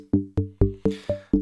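Six dry sine-wave synth plucks from Serum with sharp attacks and quick decays, evenly spaced, clean and unprocessed with no echo.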